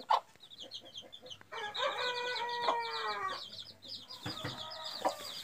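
A broody hen clucks close by in soft, repeated calls, with one longer, rising vocalization midway through. Other faint clucks and rustling sit in the background.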